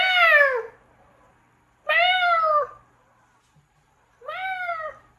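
A domestic cat meows three times indoors, each call clear and close with a falling pitch, separated by quiet pauses.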